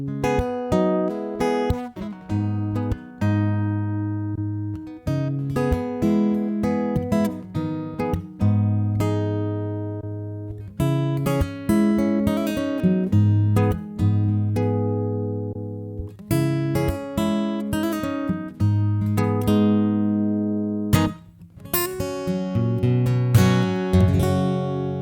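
An acoustic guitar played through a Boss AD-10 preamp strums chords and picks notes, switching between tone settings from natural to wide and bright, loud and close with brief pauses between passages.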